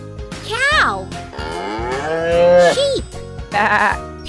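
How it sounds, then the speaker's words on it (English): Cartoon cow moos from a kids' animal puzzle video game, several drawn-out, bending calls in a row, loud and close, layered over upbeat game music. "Cow!"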